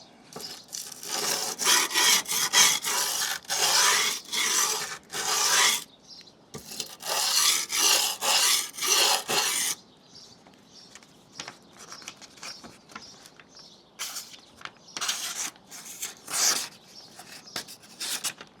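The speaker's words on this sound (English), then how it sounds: "you can see the improvement in that with a few strokes on the old 120 sandpaper" Knife blade stroked repeatedly across 120 grit sandpaper, a steady run of close, dry rasping scrapes in quick bursts, pausing briefly partway through and then continuing in shorter strokes.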